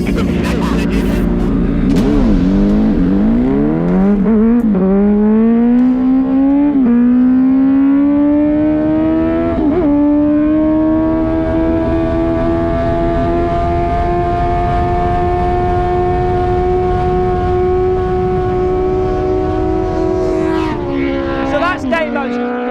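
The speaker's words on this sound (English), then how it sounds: "1000cc RMZ. We reckon it's the craziest dirt bike in the world." A 1000cc RMZ dirt bike engine revs hard and loud, its pitch climbing and falling in sweeps before holding a steady high drone, then rising sharply again at the end, with voices talking underneath.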